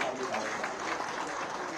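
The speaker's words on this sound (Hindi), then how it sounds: "एक बार सब लोग ताली बजा देंगे" An audience of Indian expatriates at a welcome event in Dubai claps, a brief, soft, continuous patter of many hands heard at a distance.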